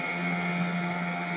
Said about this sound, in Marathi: समोर होडी जाताना आपल्याला पाहायला भेटत आहे.